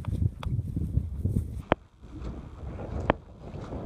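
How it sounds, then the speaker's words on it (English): Wind blows hard outdoors on a farm beside a tractor and buffets the microphone with a heavy, low rumble. A few sharp knocks cut through it before the gusts ease. "The wind's blowing like crazy."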